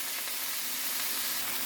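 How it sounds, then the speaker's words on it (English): Chicken slices browning in a hot skillet give a steady, dense sizzle and crackle, close and even throughout with no pauses and no talking. "And we're just going to brown it real good on both sides."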